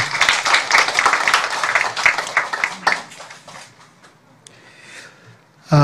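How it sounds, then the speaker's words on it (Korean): A burst of enthusiastic applause from a church congregation at a Sunday service, dense clapping that continues for a few seconds before tapering off into quiet. "우리 경례 박수 한번 하겠습니다"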